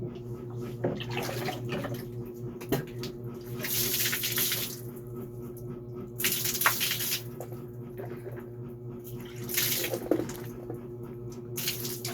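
Water from a shower runs and splashes steadily, rising into louder gushing bursts at intervals over a low background hum, with no talking.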